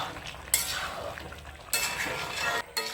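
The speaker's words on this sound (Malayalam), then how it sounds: "ഇനി ഇതിനെ ഇളക്കി ഈ മസാലയെല്ലാം ഇതിലോട്ട് ചേർക്കും" Chicken curry masala being stirred in a pan, a soft scraping and gentle sizzle with two sharper spoon-against-pan knocks, close and alone.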